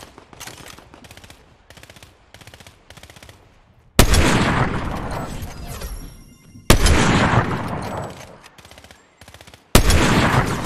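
Video game gunfire in Fortnite: a bursty chatter of rapid shots in the first few seconds, then three loud heavy blasts that each decay slowly, close and alone.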